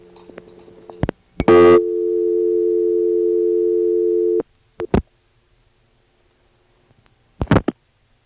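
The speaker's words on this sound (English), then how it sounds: "All the clicks through this kind of trunk seem to have that same general, very satisfying, deep resonance to them." Telephone trunk signalling from a 1976 carrier line in Harrisonburg, Virginia: sharp clicks, then a steady tone lasting about three seconds, and a few more short clicks and bursts on an otherwise quiet line.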